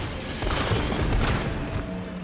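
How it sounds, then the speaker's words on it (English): Handgun shots in Resident Evil 3 Remake on PC, a dense burst of loud firing and booming game effects over a couple of seconds, with no talking. "I'm just going to use the handgun to pop that"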